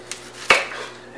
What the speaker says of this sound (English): So I've got my onion, I've got my bell pepper, I've got all of my seasonings all ready. I am chopping them up.